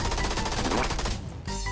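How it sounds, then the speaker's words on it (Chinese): Automatic gunfire in the mobile shooter Peacekeeper Elite: a rapid, evenly spaced burst of shots that stops abruptly, then one more short, sharp report after a brief pause. "敌人开枪暴露位置了"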